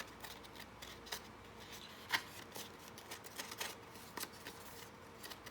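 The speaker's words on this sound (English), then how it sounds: "You can do this with your scissors." Scissors roughing up the edges of paper for altered paper clip crafts, a series of quiet, irregular snips and scrapes, faint and close with small gaps between strokes.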